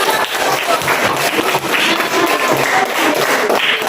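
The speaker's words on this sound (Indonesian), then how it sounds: "Tepuk tangan semuanya." Students in a classroom clap together, a close, steady patter of many hands running evenly for a few seconds with no talking.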